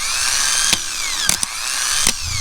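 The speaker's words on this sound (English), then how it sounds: "You can see the starter starting." A van's starter motor cranks after being jumped with a screwdriver, giving a steady whirring whine with sliding pitch and a few sharp clicks and ticks scattered through, fairly close.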